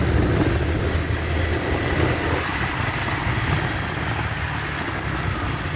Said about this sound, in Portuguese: Tô me aproximando, a moto não parou e eu reduzo uma.